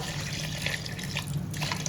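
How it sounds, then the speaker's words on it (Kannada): Water is poured into a pot of rice for chicken dum biryani, a steady close splashing pour lasting the whole moment with no talk. "ನೀರು ಕೂಡ ಸೇರ್ತಾ ಇದ್ದೇನೆ."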